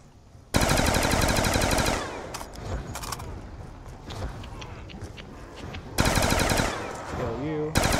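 Rapid automatic gunfire from a weapon in Call of Duty Black Ops II Zombies, on the Buried map, erupts in a loud sustained burst, gives way to scattered shots and clatter, then returns as another long burst.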